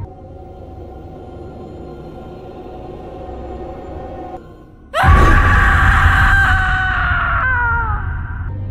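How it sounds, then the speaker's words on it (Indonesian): A woman's scream sound effect bursts in loudly partway through, shrill and sustained with a wavering pitch, following a low droning hum. "Mendengar suara teriakan itu"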